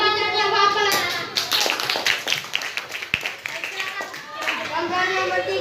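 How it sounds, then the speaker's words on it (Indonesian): A group of fourth-grade schoolchildren in a primary school classroom claps in rhythmic bursts, close and lively, with children's voices and cheering mixed in between the claps. "Tepuk tangan yang Pak Apel, anak-anak."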